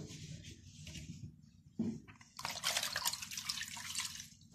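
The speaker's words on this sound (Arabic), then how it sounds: "لازم اعصرها جامد عشان ما تخليش معايا ميه" Water drips and trickles as a cleaning cloth used on a fridge is wrung out hard, starting with faint dribbles and turning into a steady, close splattering patter in the final half.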